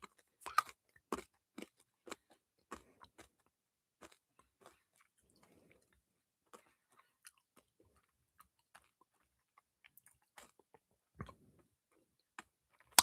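A throat lozenge is crunched between the teeth in a quiet room, giving a close series of sharp, brittle cracks that come quickly at first, then thin out into a few sparse chews and clicks.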